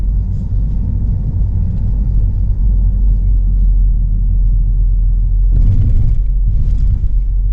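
A car drives through a residential neighborhood, heard from inside as a steady low engine and road rumble with a little tire noise swelling toward the end.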